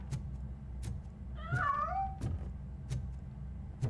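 A cat in the video game RoboCop: Rogue City lets out one clear, drawn-out meow in the middle, set against a steady low mechanical hum with a few soft periodic clicks.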